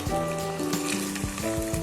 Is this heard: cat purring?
no